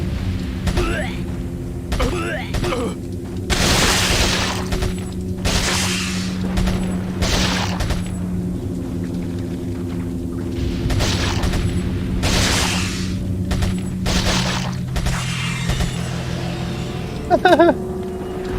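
Gunfire in the Resident Evil 4 video game, with loud, broad bursts of shots spaced through the passage over a steady bed of droning game sound and tones.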